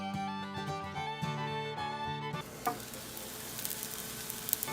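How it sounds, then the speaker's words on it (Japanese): After a short musical passage ends, a bean sprout, meat and egg pancake steam-fries under a lid on medium-low heat: a soft, steady sizzle with faint crackles. "弱めの中火にして蓋をして2分半蒸し焼きします"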